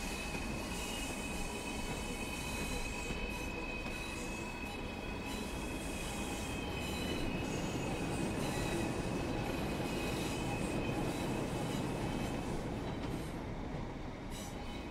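A Pacer train in the Train Sim World 4 game rumbles steadily along the Blackpool branch, with a continuous high metallic squeal from its wheels riding over the loud, even running noise.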